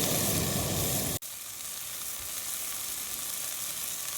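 Chopped onions sizzle and fry steadily in a hot pan as the base for homemade chili, a loud continuous crackle broken by a brief dip, then a slightly quieter, even sizzle.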